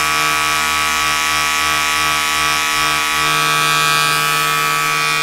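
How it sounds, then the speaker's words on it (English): Flowbee vacuum haircut device attached to a household vacuum and switched on, giving a loud, steady motor whine and buzzing drone that runs without a break and shifts slightly in pitch near the end. "It also says to turn the vacuum on first."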